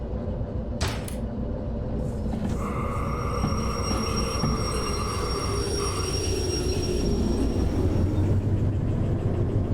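A locomotive in the train game Derail Valley pushes train cars, making a continuous loud rumble of rolling wheels with squealing and clanking, and a couple of sharp knocks early on.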